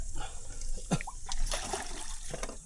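Water poured into a cooking pot with chopped onion and chilli for a crab soup, a short trickling splash heard amid background kitchen noise.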